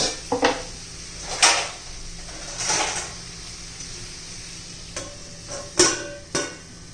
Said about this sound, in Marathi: आपण झाकण ठेवूया आपल्याला वाफेवरच बनवून घ्यायचं आहे